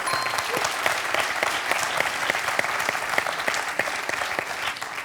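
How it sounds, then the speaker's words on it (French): A studio audience on a French quiz show applauds, producing a full, lively patter of many hands with crisp individual claps standing out, steady throughout. "Merci à tous et on vous applaudit."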